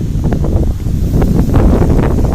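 Strong wind buffets the microphone in a loud, continuous rumble at a carp pond shore, with gusty swells and no voices.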